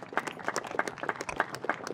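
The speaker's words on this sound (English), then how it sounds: "You're just clapping because I'm the last speaker." Audience clapping at an elementary school ribbon cutting ceremony, a steady patter of many hands at moderate distance, fairly soft and continuous throughout.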